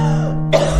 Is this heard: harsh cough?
yes